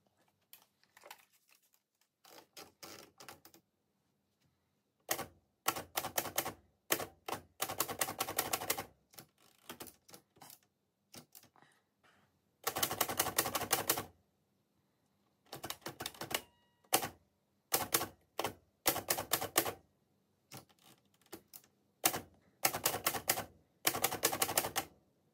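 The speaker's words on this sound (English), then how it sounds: "I'm going to go to my vintage typewriter and type some words out." Keys of a vintage typewriter clacking in rapid bursts with short pauses between, close and clear, with occasional carriage or paper sounds and no talking.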